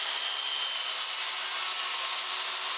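Wood pieces are sawn to size for garage wall storage, producing a continuous, even, hissing rasp that holds steady throughout.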